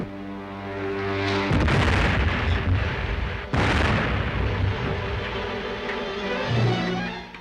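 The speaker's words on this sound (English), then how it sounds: "They're trying to bomb us." Bombs dropped from a spaceship explode in a sci-fi film serial scene, two heavy booming blasts with rumbling, crackling aftermath filling the whole stretch, loud and close with no talk.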